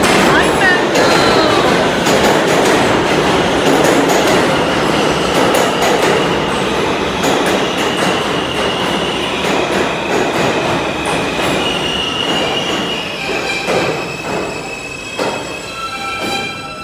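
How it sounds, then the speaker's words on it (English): A Queensbound F/M local subway train rumbles loudly through an underground station, with continuous roaring wheel noise and high metallic squeals building toward the end. "This is a Queensbound Mango local train."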